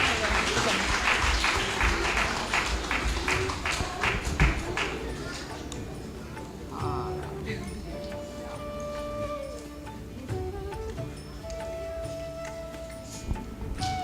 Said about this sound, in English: Round of applause for them as well.